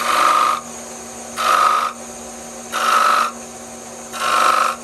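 A Shopsmith lathe turns wood while a chisel cuts beads, giving four evenly spaced scraping bursts about a second apart over a steady motor hum.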